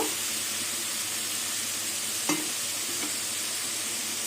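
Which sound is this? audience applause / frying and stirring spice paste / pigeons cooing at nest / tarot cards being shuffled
frying and stirring spice paste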